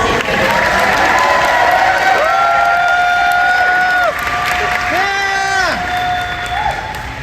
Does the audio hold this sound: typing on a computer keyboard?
no